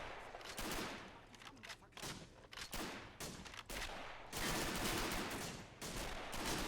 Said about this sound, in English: You can hear the distinct sound of the FG-42 back here.